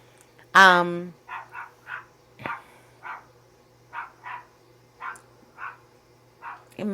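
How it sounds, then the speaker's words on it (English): A dog barks once loudly nearby, then a string of softer, shorter yips and barks follows at a steady pace, sounding somewhat farther off, over a faint low hum. "It has to be another dog somewhere."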